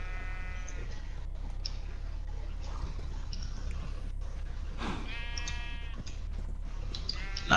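Sheep bleat repeatedly in the video game SurvivalCraft, a few calls scattered through the clip over a low steady background hum.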